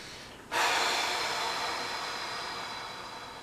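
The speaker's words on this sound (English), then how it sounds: "Okay, now I'm breathing." A person breathes during a kneeling rectus femoris stretch with a ball under the shin, a sudden strong breathy rush that then fades slowly, close to the microphone.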